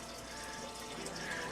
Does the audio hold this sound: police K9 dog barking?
no